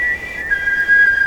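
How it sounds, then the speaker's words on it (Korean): A playful whistle added as a sound effect to a Korean film scene holds one steady, bright tone for over a second above a hissy, rumbling background, with no one speaking. "감독이 더 재미있게 장난처럼 휘파람 소리를 넣었다고 합니다"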